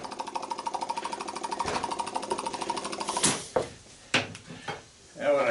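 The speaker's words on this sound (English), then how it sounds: "I think I need a bigger air chisel." An air chisel hammers rapidly and steadily on a large electric motor being scrapped for copper, then breaks into short, sharp metallic bursts and clanks, close and loud.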